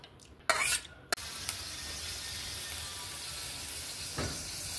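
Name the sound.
fenugreek leaves cooking in a pan over low flame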